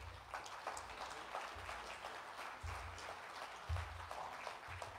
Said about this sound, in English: let's welcome Ken and Lynn with a round of applause.